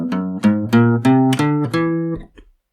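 A synth climbs a whole tone scale in Splatoon 3 style, six distinct bright tones stepping upward at an even pace, each with a sharp attack, the last one fading out, with no voices.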